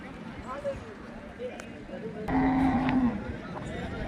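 A cow gives a long, loud moo close by, with other bellowing and murmuring voices in a busy outdoor crowd at the Gadag cattle market.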